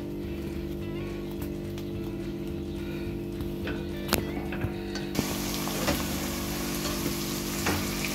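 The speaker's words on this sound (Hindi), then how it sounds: "पहले प्याज़ों को फ्राई करेंगे।" Two large chopped onions frying in grapeseed oil make a steady sizzle close by, growing brighter partway through, with a few clicks of a utensil and a low constant hum underneath.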